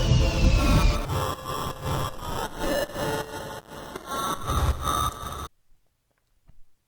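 Synthesized choir pads in an electronic glitch track, chopped into a rhythmic gated pulse over dense synth texture and low beat, loud and steady, then cutting to near silence at the end.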